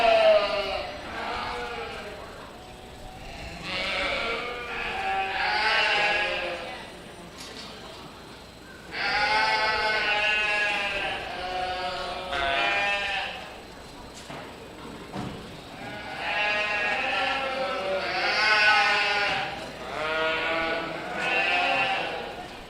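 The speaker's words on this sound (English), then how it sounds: "Southdown ewe lamb, and her yearling ewe lamb" Southdown ewes and lambs bleat repeatedly at a county fair sheep show, with several loud, wavering calls recurring in clusters through the clip while indistinct talk and arena noise carry on underneath.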